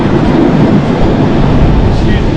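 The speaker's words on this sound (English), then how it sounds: "Excuse the train sounds." Steady rumble and rattle of a moving panoramic train, recorded from inside the carriage, a loud continuous low roar with no break across the moment.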